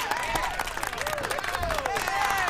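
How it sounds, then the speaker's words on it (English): A studio audience on a radio show breaks into applause, a dense wash of clapping mixed with whoops and shouting voices, loud and close. "Can I get some applause then?"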